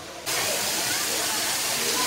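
A waterfall near Tirupati roars as a dense, steady hiss of falling water that swells in suddenly and holds loud and close throughout.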